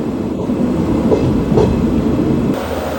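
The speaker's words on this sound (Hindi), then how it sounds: "एटा नरसिंहगढ़ रेलवे स्टेशन भीतर के आमे एंट्री गला।" A train rolling into Narasinghgarh railway station on the Bolangir to Sonepur line gives a steady, loud rumble of wheels and carriages, with faint clickety-clack over three seconds and no talk.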